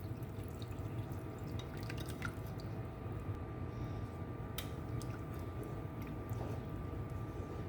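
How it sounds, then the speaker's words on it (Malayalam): Coconut milk strained and poured into a pot of Kerala-style vegetable stew, a soft, steady trickle with faint drips running quietly for several seconds. "ഞാനിപ്പോൾ തേങ്ങാപ്പാലൊന്ന് ജസ്റ്റ് അരിച്ചൊഴിക്കുന്നുണ്ട്"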